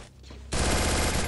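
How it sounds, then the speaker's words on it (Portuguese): Gunfire in the Free Fire battle royale game: a sudden loud, sustained burst of rapid shots starts partway through and continues to the end after a quieter opening. "Dei o tiro já."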